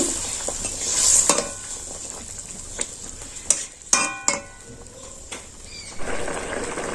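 A spoon stirs a boiling curry of egg, red lentils and pumpkin in a pot, giving scattered scrapes and clinks against the metal over a low bubbling hiss, fairly close and steady.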